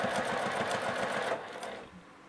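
A Juki TL-2010Q sewing machine bastes through fabric with wadding, its rapid, even stitching chatter running close and clear for over a second before fading to quiet.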